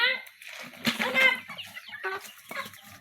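Chickens cluck and squawk close by in a busy, agitated burst while people talk over them.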